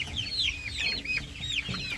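Chickens and roosters in a movable hoop coop on pasture, clucking and calling repeatedly and close by, with several overlapping birds in steady, busy chatter and no talking.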